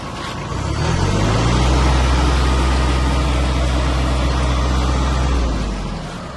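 A Japanese Kubota A-175 mini tractor engine is given some throttle and holds a loud, steady low rumble up close, rising at the start and easing off slightly at the end.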